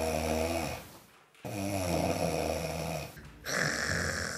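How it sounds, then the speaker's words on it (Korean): A sleeping person snores loudly and close by, two long rasping rumbling inhalations separated by a short quiet pause, with a third snore starting at the end. "본인도 괴롭고 옆 사람은 더 괴로운 코골이."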